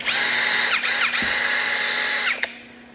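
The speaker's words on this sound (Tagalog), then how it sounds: "ito nga po ang ating version 3 na 30mm Ryoko brushless impact drill" A Ryoku version 3 brushless impact drill with copper winding whirs at high speed up close, dipping briefly in pitch twice before spinning down to a stop.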